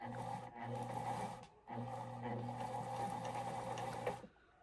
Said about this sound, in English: And then I can continue to wind the bobbin.